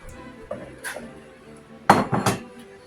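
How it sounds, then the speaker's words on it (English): Dishes are shifted aside on a home kitchen counter during apple crisp baking, a few soft knocks followed by a cluster of louder clattering clinks of plates and cutlery, close by with no talking. "Take my dishes out of the way."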